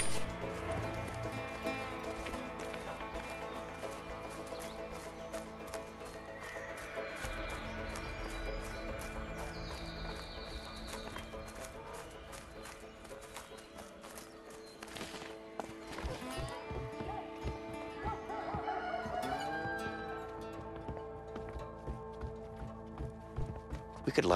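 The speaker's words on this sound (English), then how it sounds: "Let's just hope these horses keep running." Rhythmic hoofbeats of horses galloping in the video game A Way Out run steadily under a game soundtrack of music and ambient effects, with occasional louder clatters.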